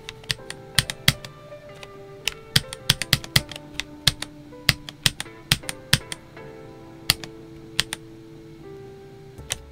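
Someone types on a Redragon K631 Pro SE 65% keyboard with quiet linear switches, producing close, irregular bursts of muted keystroke clicks with short pauses and no voices.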